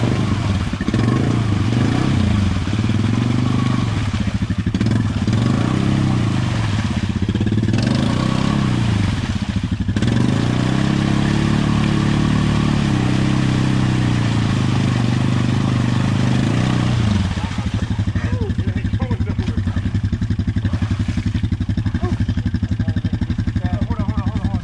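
A motorcycle stuck on a muddy trail revs repeatedly and loud, its engine rising and falling in several bursts before settling into a steadier drone, with voices talking over it.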